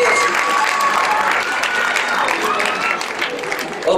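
Loud, dense applause from a theatre audience at a live comedy show at Teatro Traiano in Civitavecchia, a steady wash of many hands clapping throughout with faint voices mixed in.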